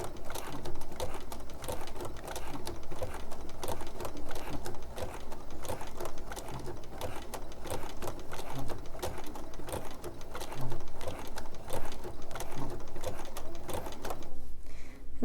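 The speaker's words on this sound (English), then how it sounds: "And I am sewing along in real time here, so you can just sew right along with me as you're putting your block together." A sewing machine stitches a quilt block, its needle chattering in a fast, even rhythm that runs almost without a break, close by and moderately loud.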